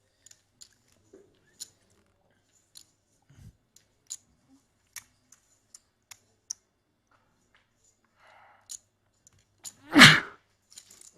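One sharp, loud sneeze near the end, at a high-stakes no-limit hold'em poker table, preceded by a quiet stretch of sparse, light clicking.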